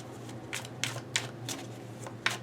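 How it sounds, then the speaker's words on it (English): A tarot deck being shuffled by hand, a steady series of soft riffling card bursts, about six distinct swishes at close range in a quiet room. "Let's keep shuffling a little bit though for the Ace of Wands reversed."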